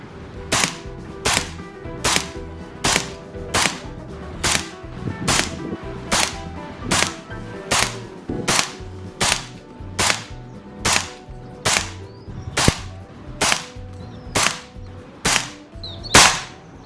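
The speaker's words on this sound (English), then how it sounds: "Let me quickly shoot one more shot at that same target just to give you the chrony reading." A BRK Ghost air rifle fires ZAN slugs at a target, about twenty sharp, loud, close shots at a steady rhythm roughly every second, each with a brief ringing tail, with no talk.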